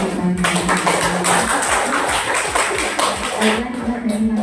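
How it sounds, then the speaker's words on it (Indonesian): Audience at a school community health programme clapping, with distinct individual claps standing out over a murmur of voices, lasting throughout at moderate loudness. "Beri tepuk tangan dulu"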